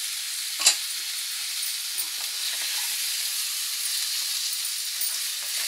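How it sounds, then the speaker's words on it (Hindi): Ground onion paste with turmeric sizzles in a hot pan, a steady soft frying hiss with one sharp clatter early on and faint stirring taps after. "इसको सौते करेंगे और ये प्याज पिसा हुआ इसको हम डाल देंगे"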